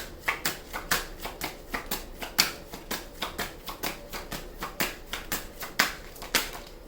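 Tarot cards are shuffled close up in a steady rhythm of crisp riffling slaps, about two or three per second, with no talk over them.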